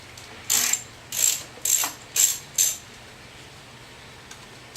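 Ratchet with a T30 bit on an extension clicking through five short, evenly spaced bursts while loosening fuel tank bolts, close and crisp with quiet gaps between strokes.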